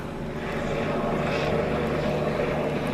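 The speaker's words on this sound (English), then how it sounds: "Damn helicopter." A steady, loud engine roar with a rotor-like throb drones continuously, like a helicopter passing overhead.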